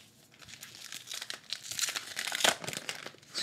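Baseball card from a 2024 Topps Heritage box slid into a plastic sleeve, a close run of crisp crinkling and rustling plastic that builds and fades over a few seconds, with no talking.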